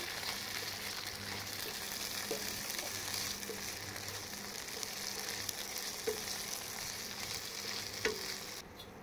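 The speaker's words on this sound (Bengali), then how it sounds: "আদা রসুন বাটাটা দিয়ে একটু কষিয়ে নেব কাঁচা গন্ধটা যতক্ষণ না পর্যন্ত যায়।" Ginger garlic paste and onions fry in oil for a fish curry, giving a steady, close sizzle with occasional scrapes and taps of a spoon stirring through the paste, and no voices.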